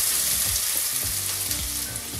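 Chopped onions sizzle in hot oil already seasoned with cinnamon, cloves and cardamom for a kasuri methi chicken gravy, a steady close crackling hiss with a low hum beneath and no talking.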